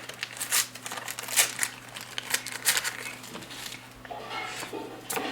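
A crinkly plastic packet is handled and opened up close, crackling in short bursts with brief pauses between them.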